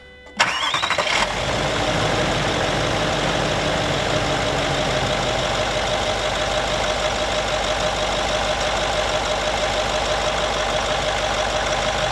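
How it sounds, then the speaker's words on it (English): A car engine cranks briefly and catches during a battery cranking test, then settles into a steady, loud idle that carries on alone for several seconds. "we'll do the cranking test"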